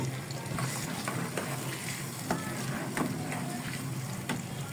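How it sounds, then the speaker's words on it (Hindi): Masala for a mutton (gosht) curry sizzles steadily in a hot pan, a continuous crackling hiss with small pops throughout and no voices. "मसाला बहुत अच्छा सा भून गया।"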